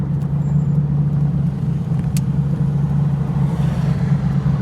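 A TVR Chimaera two-seater sports car engine drones steadily from inside the cabin on the road, a loud, constant low rumble without a break, with a faint click or two over it.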